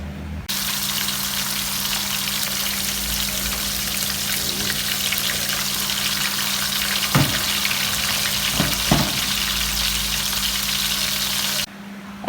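Plantains frying in a pan in a Jamaican home kitchen give a steady, loud sizzle that runs unbroken, with a few soft knocks partway through and no talking.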